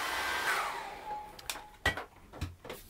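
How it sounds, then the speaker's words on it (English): A hair dryer drying acrylic paint whirs steadily for about a second and a half, then cuts off, leaving a few sharp knocks and clatters nearby. "So I'm going to dry that off really well with a hairdryer"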